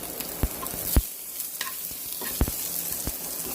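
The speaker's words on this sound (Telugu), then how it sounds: "అందులో గార్లిక్ కూడా వేసి ఫ్రై చేయాలి" Garlic and onions frying in a pan for a garlic-onion chutney, a continuous close sizzle with occasional sharp clicks of a spatula stirring, no talking.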